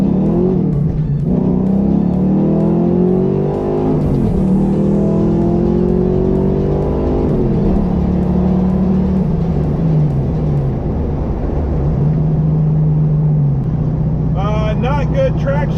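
Foxbody Mustang engine revving hard at a drag strip, rising in pitch through several gear changes with brief drops between shifts, loud and close throughout with a faint voice near the end.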